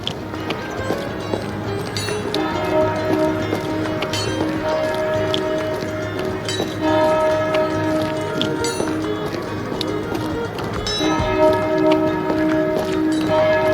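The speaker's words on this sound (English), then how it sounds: "The bells are calling us." Church bells toll from a monastery in a fantasy video game, steady repeated metallic strikes ringing over layered game ambience and hoofbeat-like footfalls throughout.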